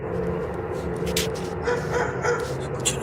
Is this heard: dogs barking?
yes